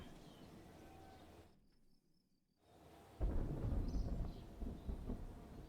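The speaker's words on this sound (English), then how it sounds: "Oh, we got thunder going. There's a storm brewing over there." Distant thunder from an approaching storm in Kerbal Space Program: a faint ambient background drops to near silence briefly, then a low rumbling roll of thunder swells in and keeps grumbling to the end.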